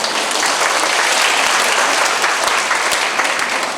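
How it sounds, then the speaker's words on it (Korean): Dense, loud audience applause filling a school parents' assembly hall, continuous and even throughout without voices. "큰 박수 부탁드립니다"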